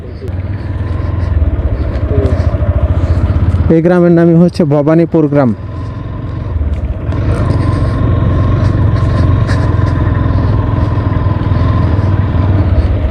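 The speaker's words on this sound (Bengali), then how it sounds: "এখন পর্যন্ত আমরা ইন্ডিয়ার ভিতরে বাইক রাইড করতেছি" Motorcycle riding along a village road near the India–Bangladesh border, a steady mid-pitched engine drone running throughout under continuous nearby talk.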